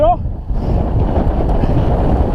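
Steady, loud wind rushing across the microphone while road cycling in a group, a dense low roar with no break, as if heard while riding fast outdoors.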